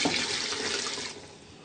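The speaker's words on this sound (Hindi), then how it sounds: "अब हम इसमें पानी शामिल करेंगे।" Water is poured into a cooking pot of fried ojri and lungs, a steady close splashing rush that thins out near the end, with no talking.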